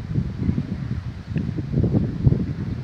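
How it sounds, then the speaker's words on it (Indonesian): Strong wind blows steadily through tree leaves outdoors, a continuous broad rustle with gusty swells that rises again after a brief lull. "Daun itu bergerak-gerak dengan kencang itu karena angin bertiup dari selatan."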